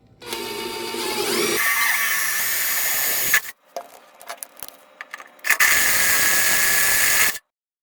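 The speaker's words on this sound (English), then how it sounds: "which require a 5/16 size drill bit as the pilot hole for that size thread" A power drill bores a 5/16 pilot hole into a Toyota Sequoia truck chassis, whining and grinding in two loud, close bursts separated by a pause with small clanks.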